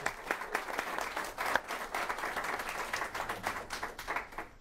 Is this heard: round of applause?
yes